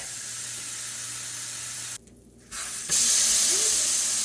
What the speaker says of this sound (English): put your burger patty onto the frying pan